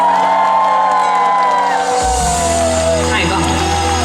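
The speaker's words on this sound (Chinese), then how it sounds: "给自己一个尖叫声加掌声" Concert crowd at an outdoor evening show in Pingtung's Millennium Park, loud cheering and whooping with scattered applause swelling under a fading sung note and amplified voices.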